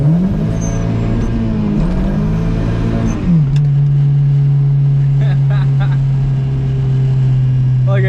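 A VW MK3 with a swapped, tuned 1.8t engine revs hard, then settles into a loud, steady high drone as it accelerates and spins its tires, close and continuous throughout.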